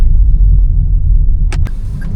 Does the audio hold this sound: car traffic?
yes